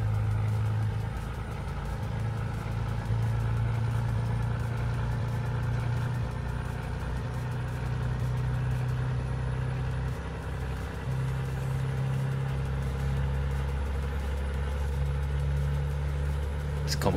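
A truck engine drones in Euro Truck Simulator 2, a steady low rumbling hum that runs without a break while driving, with faint higher sounds layered on top.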